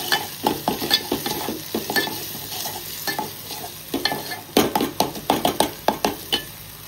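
Cooked onion and tomato with turmeric and garam masala being stirred in a sizzling pan, rhythmic scraping strokes of a spoon over a constant close fry, quickening into a run of rapid stirs near the end.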